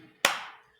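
A lone crisp handclap sounds nearby against near silence, followed by a quick, fading room echo.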